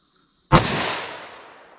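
A single sharp gunshot from a 10mm revolver firing a Buffalo Bore low-recoil load, loud and close, its boom decaying slowly through a long echo, with no voices.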